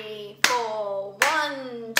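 A ballet-class clap pattern: sharp, loud hand claps ring out at an even pace, each followed by a sustained tone in the gap before the next.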